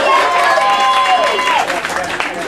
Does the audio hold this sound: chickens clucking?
no